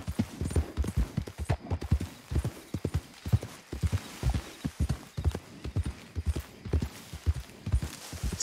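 Steady hoof clip-clop from a horse in the Red Dead Redemption 2 video game, a brisk even rhythm of close, loud hoofbeats carrying on alone throughout.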